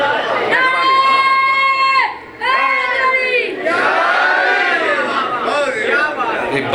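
Crowd of children shouting slogans in unison at a Muharram majlis gathering in Multan, loud bursts of voices with a short pause, echoing in a large space.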